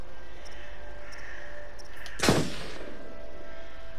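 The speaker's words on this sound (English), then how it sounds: "Use the right stick to aim, press R2 to shoot" A single loud gunshot goes off in the horror video game Until Dawn, a sharp broadband crack with a short decaying tail standing out against a steady low ambient hum.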